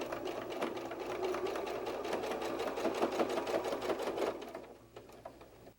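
A sewing machine stitches pieces of a bear softie in one steady, close run, its rapid needle chatter and motor hum holding for about four seconds before slowing and stopping.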